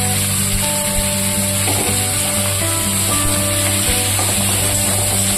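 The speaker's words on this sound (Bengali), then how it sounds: "এবার এগুলো কেটে রাখা বাঁধাকপিটা দিয়ে দিচ্ছি।" Chopped cabbage sizzles after going into hot oil tempered with spices, producing a steady loud hiss and crackle with a few stirring knocks, over a constant hum in the kitchen and no voices.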